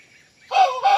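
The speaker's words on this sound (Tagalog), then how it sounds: "tumitilaok na nga talaga sila" An Aseel rooster about three months old crows nearby, a loud strained call rising after a quiet moment and continuing to the end.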